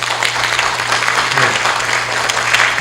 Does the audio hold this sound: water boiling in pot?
no